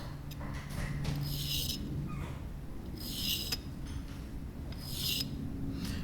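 A fountain pen nib is ground into a beveled cursive italic edge with repeated dry rasping strokes, about three close scratchy passes over a steady low background hum.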